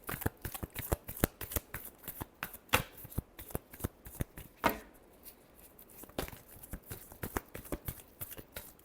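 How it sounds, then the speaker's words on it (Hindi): Tarot cards being shuffled by hand in a rapid run of crisp riffling snaps and flutters, close and fairly quiet, with a short pause partway through before the shuffling resumes. "Last shuffle."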